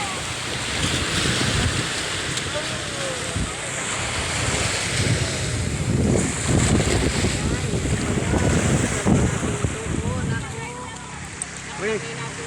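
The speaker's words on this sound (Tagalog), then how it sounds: "lakas ng alon" Strong ocean waves surge and crash in rolling bursts, mixed with heavy wind buffeting the microphone at the shore, with people talking over the roar.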